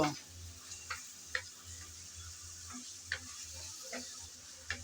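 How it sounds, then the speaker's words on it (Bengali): Cauliflower, carrot and chopped yardlong beans stir-fried in plain oil, with a steady sizzle beneath repeated clicks of a spatula scraping the pan every second or so. "এখন সবগুলো সবজি একসাথে নেড়ে চেড়ে ভেজে নেব"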